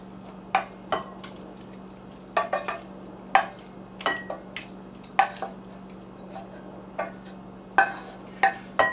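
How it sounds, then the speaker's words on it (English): Mushrooms cooking in a pan with butter, sharp scattered clinks and scrapes of a utensil against the pan over a faint low hum and soft sizzle. "Now I will add my mushrooms."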